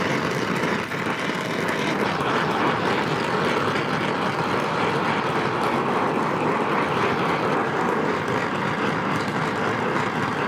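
Big-bore Aermacchi race motorcycle engine running steadily in a workshop, a dense continuous mechanical drone with a broad rumble, loud and unbroken for the whole stretch with no voices.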